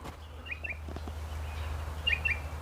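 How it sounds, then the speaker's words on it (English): Parrots in red gum trees overhead give short paired chirping calls twice, moderately distant over a low steady hum. "there's parrots above us here on these gums"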